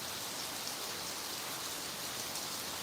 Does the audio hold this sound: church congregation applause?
no